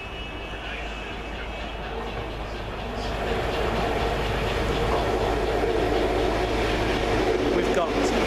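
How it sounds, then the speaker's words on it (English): A First Great Western high-speed train arrives on its service from Bristol Temple Meads to London Paddington, a loud, steady roar of engine and rolling stock that swells partway through and stays heavy to the end. "Just now arriving, the 1842 First Great Western high-speed train service from Bristol Temple Meads to London Paddington."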